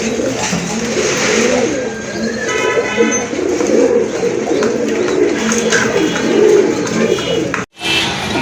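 A male pigeon coos at a pigeon seller's stall, its repeated throaty coos rising and falling over a steady background din of other birds and street noise, with a brief dropout near the end.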